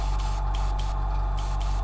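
A hobby airbrush sprays paint in a steady, continuous hiss, heard up close and alone for the whole stretch, with brief dips as the spray pattern is adjusted.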